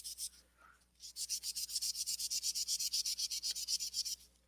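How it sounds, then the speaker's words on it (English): Paper napkin rubbed back and forth on a surface in a dry rub test, a rapid run of about two dozen short, even scratchy strokes, close and fairly quiet, after a brief start. "This is just a piece of napkin, and we'll do a dry rub test."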